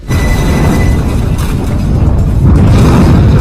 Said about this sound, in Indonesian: Ayam panggang yang di dalamnya rupanya terdapat bom rakitan pun meledak dengan hebatnya